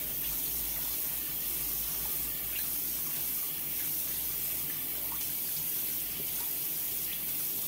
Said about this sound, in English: Take some of this cold water that's been running in my sink